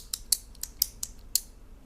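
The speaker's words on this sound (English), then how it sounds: "someone keeps clicking their pen" A pen clicked over and over during a meeting: six sharp, close clicks at uneven intervals, each crisp and brief, with near silence between them.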